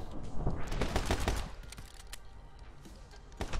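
Gunfire in My Friend Pedro, a cluster of rapid close shots in the first second and a half, then scattered single shots and a final burst, loud with no talking over them.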